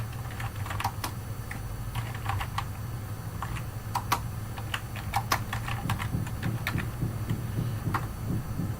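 Steady keyboard typing on a computer as a student's name is entered by hand, with irregular close clicks and keystrokes over a constant low hum, no voices.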